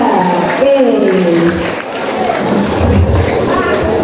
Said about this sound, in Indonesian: Berikan tepuk tangannya yang meriah kepada pasangan nomor 3.